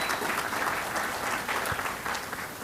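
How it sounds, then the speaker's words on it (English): An audience at the Stars Over Dulles Awards 2022 claps steadily and fairly loudly for the full stretch, a dense unbroken applause. "Let's give her a round of applause for her support."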